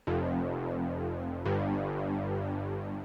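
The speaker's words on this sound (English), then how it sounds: "So we have another bass, and it's actually kind of synthwave inspired" A warm, buzzy synthwave-style synth bass holds a long note, then retriggers once midway, its bright harmonics sustaining steadily and loud without any voices.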